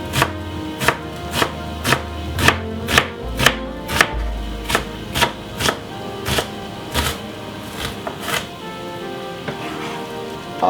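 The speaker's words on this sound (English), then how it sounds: "Make sure you cut your white onion into some very small pieces in dices." A knife chops half a white onion into small dice on a cutting board, about twenty crisp, evenly spaced thuds at a steady rhythm, close and clear with no talking.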